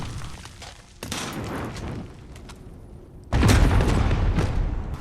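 Explosions and gunfire in the Call of Duty Modern Warfare campaign: dense, rumbling bursts that swell at one second and again louder past three seconds, with sustained crackling debris between blasts.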